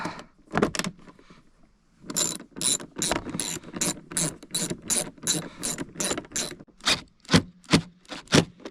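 Ratchet clicking rapidly while tightening screws during installation of Fox Float 3 shocks on a snowmobile: close, crisp bursts of ratcheting in a steady rhythm, pausing briefly before a long run of regular strokes.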